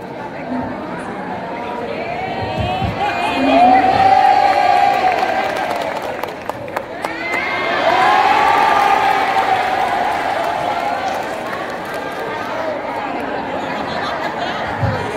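A crowd in a hall at a ceremony applauds and cheers continuously for several seconds, with a loud swell of clapping and whoops. An announcer's amplified voice carries over the noise.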